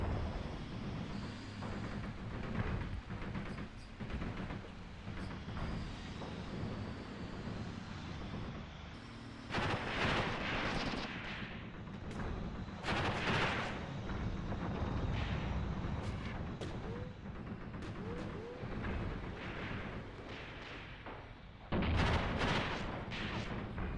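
Artillery and gunfire in a modern war game battle between South African and Angolan forces, a continuous rumbling barrage with repeated sharp blasts and distant booms that swell at intervals.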